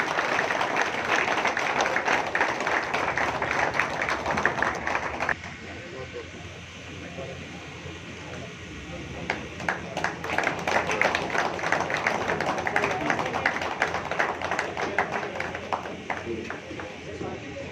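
Strong applause at a ceremony honouring retiring teachers, a dense, rapid clatter of many hands that drops to a softer murmur midway and then swells back up, with a voice speaking over it.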